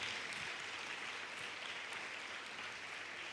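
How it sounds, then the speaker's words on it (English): Audience applause at an intercollegiate expo on menstrual health management, a steady, dense clapping from a large crowd that holds at an even loudness throughout, with no talk over it. "Let's give ma'am a big round of applause."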